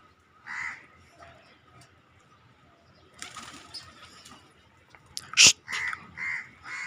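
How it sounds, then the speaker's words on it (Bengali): Crows caw in short, separate bursts, mostly faint and distant at first, then several louder calls close by, one especially sharp and near, in an otherwise quiet outdoor setting. "দেখেন এই যে কাক ডাকতেছে।"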